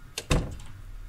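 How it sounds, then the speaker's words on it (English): A door in the Project Zomboid video game gives two quick knocks followed by a firmer thunk with a brief fading tail, close and clear with no voices. "I heard a door"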